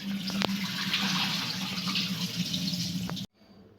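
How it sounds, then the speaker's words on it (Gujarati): Water draining out of soaked wheat through a colander, a steady close splashing trickle that runs for about three seconds and then stops abruptly, leaving near silence. "તો એક આપણે કાણાવાળા વાસણમાં પાણી બધું જ નીકાળી લઈશું."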